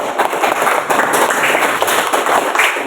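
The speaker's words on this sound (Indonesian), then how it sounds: "Bagus, tepuk tangan buat Alif." A classroom full of students claps for a classmate who answered a question, a dense, steady patter of hands lasting the whole few seconds, close and fairly loud with no talk over it.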